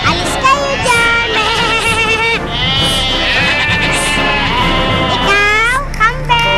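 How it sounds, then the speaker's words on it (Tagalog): Several goats bleat repeatedly and loudly nearby, their wavering calls overlapping in quick succession while a person shouts at them. "Mga kambing! Umalis kayo dyan!"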